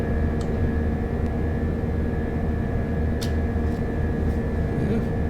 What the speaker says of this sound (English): the plane's just leveled off a little bit so we can build up some speed, and then we'll start climbing again